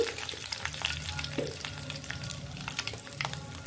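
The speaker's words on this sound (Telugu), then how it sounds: "ఇవి కూడా కొంచెం ఫ్రై అవ్వాలి." Spices, curry leaves and turmeric for an amla (gooseberry) roti pickle sizzle and crackle in oil in a pan, with occasional stirring scrapes and no talking.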